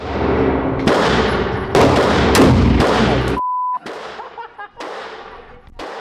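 A shotgun fires .410 birdshot in sharp, loud reports, several cracks in quick succession followed by a brief electronic beep and quieter clattering afterward.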